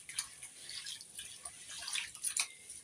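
Rice being washed by hand in water, with faint, close splashing and dripping that carries on quietly throughout.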